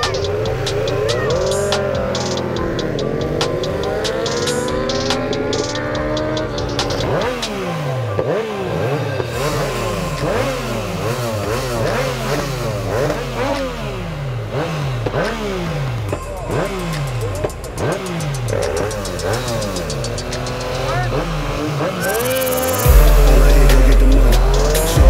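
A Yamaha MT-09 motorcycle accelerates hard, its engine revving up through repeated rising sweeps and gear changes for the whole stretch, loud and close, with a burst of wind or rumble near the end.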